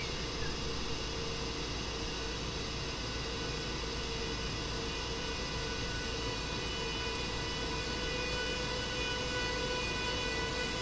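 A BR 101 electric locomotive hauling a Eurocity train pulls away from a stop in a rail simulator on the Munich to Rosenheim line, giving a steady, loud drone of traction motors and rolling noise with a faint high whine throughout.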